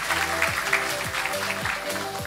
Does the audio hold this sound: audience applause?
yes